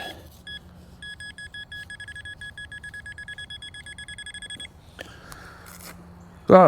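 Nokta Legend metal detector giving a surface zinc signal in a side yard: a steady run of rapid, evenly pulsed high electronic beeps, close and clear, that stops abruptly and is followed by a brief rustle and a thump.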